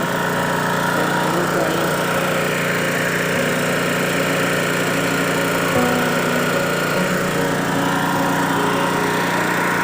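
Honda EM6500CXS 6.5 kW petrol generator running steadily under load, a loud continuous engine drone with even mechanical hum throughout and no break.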